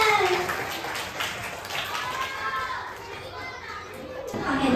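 Schoolchildren at an elementary school health session applaud a classmate, a dense, lively patter of many small hands mixed with excited children's voices and chatter, swelling toward the end.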